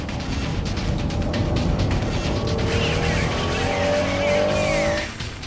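A Honda NSX-R race car corners hard through a slippery hairpin, its engine roaring loudly throughout while tires squeal in rising streaks before the sound drops off near the end.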